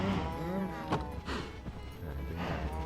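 A cow moos in Minecraft, a few short, close game lowing calls spread over a few seconds.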